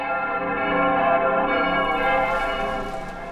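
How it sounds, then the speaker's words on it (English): Church bells ring out in a continuous, loud, dense jangle of overlapping tones, rung in a random, unpatterned peal as in the old English practice, with no voices. "English bells were simply rung out in a great random noise"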